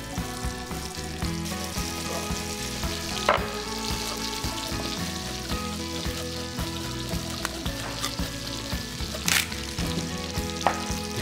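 Meat sizzles steadily in butter in a hot pan, a dense crackling fry with occasional clinks and stirring noises over a soft musical background.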